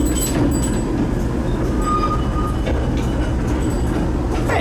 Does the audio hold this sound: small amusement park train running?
yes